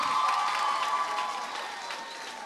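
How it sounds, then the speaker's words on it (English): An audience in a high school assembly claps together, a dense roar of applause that is loud at first and gradually tapers off toward the end. "Give her a big round of applause."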